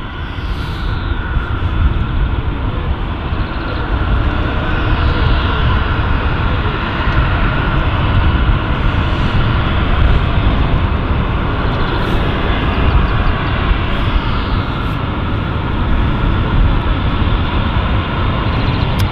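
An aircraft on runway 09 at London City Airport produces a steady, loud, broadband engine roar that holds for the whole stretch, heard from a fixed nearby spot with no voices.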